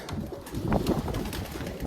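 Pigeons coo softly nearby, a few low throaty calls rising over a rustling outdoor background.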